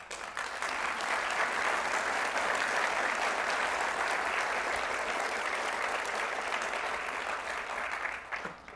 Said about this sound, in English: If you were clapping for that, we expect to see you signing up.